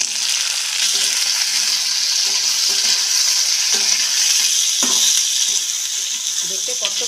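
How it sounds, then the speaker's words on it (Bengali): Onion and capsicum pieces sizzle in hot oil for a chilli mushroom dish, a steady bright frying hiss with occasional clinks and scrapes of stirring, fairly loud and close, no voices. "এখন এই যে পেঁয়াজ ক্যাপসিকামের টুকরোগুলো তেলের মধ্যে দিয়ে দেবো"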